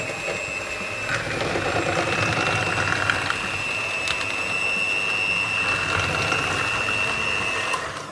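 An electric mixer creams butter and sugar for Egyptian ghorayeba cookies with a loud, steady whirring drone and a high motor whine that holds evenly for several seconds before cutting off.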